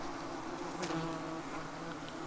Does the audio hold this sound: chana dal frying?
no